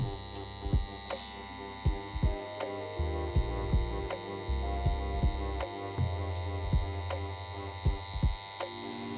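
A tattoo machine with a 13 soft edge Magnum needle and a 3.3 mm stroke hums steadily nearby, with periodic soft thumps from the needle work recurring roughly every second.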